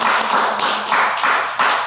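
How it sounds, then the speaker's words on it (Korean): Korean church congregation applauding, a loud, close burst of rapid clapping that swells and pulses in waves, with no talk over it. "우리 하나님께 영광의 박수를 드립시다"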